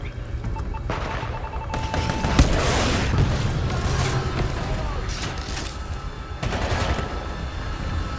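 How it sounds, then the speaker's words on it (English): Weapon fire in the Titanfall 2 shooter game, with rocket launcher shots bursting out as loud booms and crackling bursts over mechanical clanks and creaks, in a busy, noisy battle soundscape. "They just gave me a rocket launcher."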